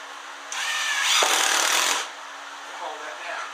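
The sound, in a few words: power drill driving a screw into wood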